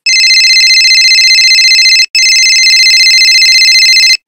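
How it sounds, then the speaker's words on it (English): A mobile phone ringtone plays loud and close as two long, steady electronic ringing bursts separated by a brief break, with no talk over it. "Show the children each phone and play the corresponding ringtone."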